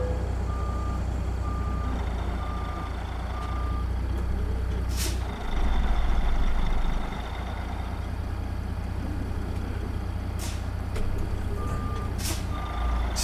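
A truck in American Truck Simulator hauling a Big Bud oversize load gives repeated electronic reversing beeps over a steady low engine drone, with a brief air brake hiss partway through and more beeps near the end.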